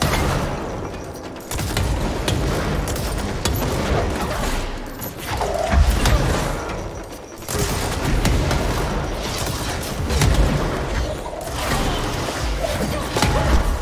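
Rockets fire and explode in rapid volleys during combat in the video game Control, a dense barrage of booms and gunfire-like blasts that stays loud for the whole stretch, with brief lulls around the second and seventh seconds.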